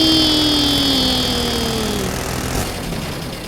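A helicopter in the Teardown video game gives a steady mechanical engine drone with a whine that slowly drops in pitch, loud and close, with no other sounds over it.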